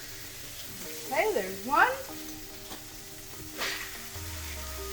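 Smash burger patties hit a hot pan over high heat, giving a steady low sizzle beneath someone talking briefly.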